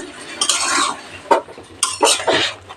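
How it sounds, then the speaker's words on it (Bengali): Vegetables being stirred in a pot after the lid is lifted: a close scraping clatter of a utensil against the pot, with a few sharper clinks between the strokes. "পাঁচ মিনিট পর ঢাকা তুলে একবার নেড়ে দিচ্ছি"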